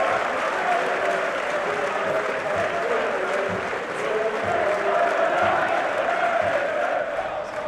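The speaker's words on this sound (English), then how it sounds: "listen to the away end applaud as Scott Sinclair makes his way off" Away supporters at a Mansfield Town versus Preston North End football match applaud steadily from the stands, a dense, sustained wash of clapping from a distant crowd.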